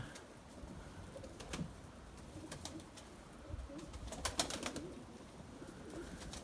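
White Erzurum pigeons cooing inside a coop, soft and fairly close, with several low coos and occasional wing flutters or clatters over a quiet background.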